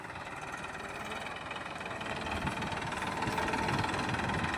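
A tractor engine rumbles steadily nearby, a low continuous chugging drone that grows slightly louder toward the end.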